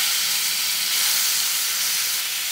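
Chopped ripe jackfruit sautéing in ghee in a pan, a loud, continuous close-up hiss and sizzle that stays even throughout with no breaks.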